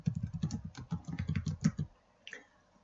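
Quick, steady typing on a computer keyboard: a close run of crisp key clicks for about two seconds, then a pause and a final keystroke, with no voices.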